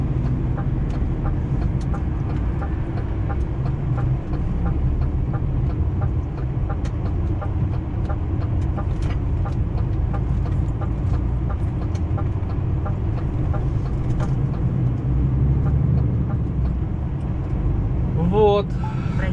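Car pulling away from a red light on the road from Vienna to Graz, a low steady engine and road hum heard from inside the cabin, with a soft chime near the end.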